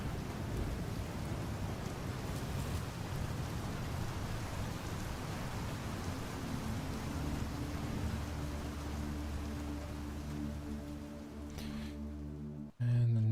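Steady rain falls in the GodSIM video game built in GameMaker Studio 2, a constant even hiss that holds throughout before cutting off abruptly near the end.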